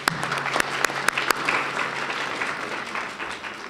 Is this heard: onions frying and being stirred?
no